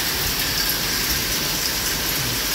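Dense, steady pattering of hailstones falling outdoors in Madrid, Spain, a continuous loud hiss with wind noise underneath.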